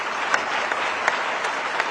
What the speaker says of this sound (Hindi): तो जोरदार तालियां सर के लिए